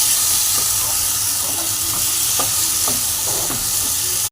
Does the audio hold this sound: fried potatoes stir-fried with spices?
yes